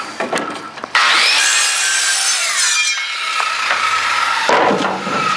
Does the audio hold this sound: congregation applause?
no